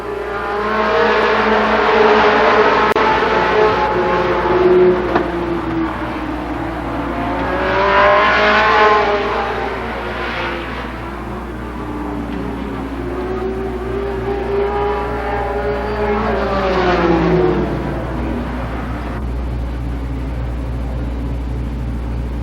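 Late model stock cars in a 10-lap heat race at Columbus Motor Speedway, engines roaring and rising as the pack sweeps past, with repeated swells of revving and fading between laps.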